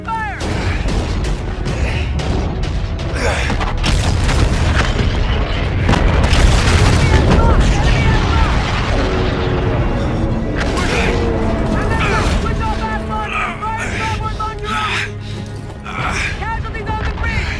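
Gunfire and explosions from a space battle in Call of Duty: Infinite Warfare, a continuous loud barrage of booms and mechanical clatter under shouted commands.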